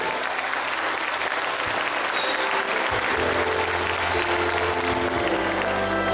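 An audience at a Georgian festival applauds children with steady, dense clapping that stays loud and continuous throughout.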